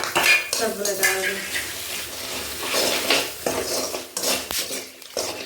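Masala of turmeric, chilli, salt and garlic sizzling as it fries in a pan, with a spoon scraping and stirring against the metal, loud and close, with no voices.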